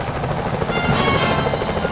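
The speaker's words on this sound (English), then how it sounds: "Careful, Sly. Those security choppers are bad news" Security helicopters in the game Sly Cooper: Thieves in Time, a loud continuous rotor chop with rapid regular thumping and a mechanical whine, close and steady throughout.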